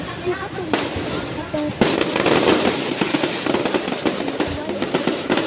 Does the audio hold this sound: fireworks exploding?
yes